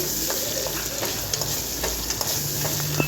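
Dal for sambar being tempered in a hot pan, a continuous close sizzle and crackle of oil with small pops scattered through, no voices.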